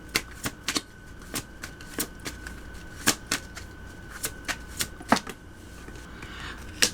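A Moonology oracle card deck is shuffled by hand, giving a series of sharp, crisp card riffles and taps, close and fairly quiet, repeating irregularly against a still room.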